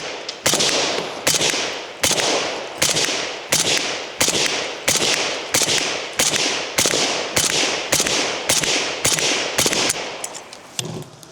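A Zastava ZVUK rifle fitted with an AK-style silencer fires a long, evenly spaced string of about fifteen sharp, loud reports, each cracking and decaying quickly before the next.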